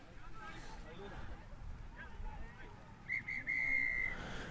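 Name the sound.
referee's final whistle at a rugby match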